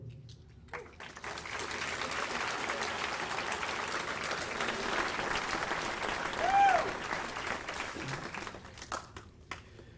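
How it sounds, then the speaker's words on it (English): Audience applause at a high school graduation ceremony in Vicenza fills the space, a steady, sustained wash of many hands clapping that rises quickly and holds for several seconds before tapering off. "Let us give them all, and all other DODS students, a round of applause for these individuals"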